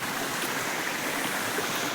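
Water in a stream rushes past in a continuous, even burble at moderate loudness. No voices are heard over it.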